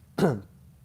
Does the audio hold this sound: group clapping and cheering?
no